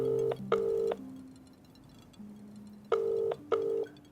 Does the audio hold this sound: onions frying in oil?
no